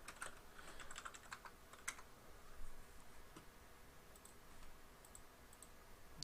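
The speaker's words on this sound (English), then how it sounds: "let's type our password real quick" A password goes in on a computer keyboard as a quiet, quick run of light key clicks, with a brief pause partway through.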